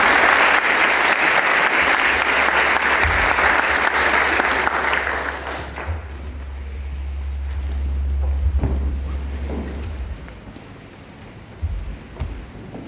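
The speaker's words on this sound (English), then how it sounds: "Give him a round of applause." An audience at a school valedictory ceremony for the class of 2021 bursts into sustained, loud applause that fills the first half, then thins out, leaving softer scattered clapping and a low rumble.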